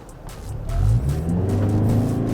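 A Toyota Camry HEV hybrid car accelerates, its engine note rising steadily and holding as a close, continuous drone with rough tire and road noise underneath.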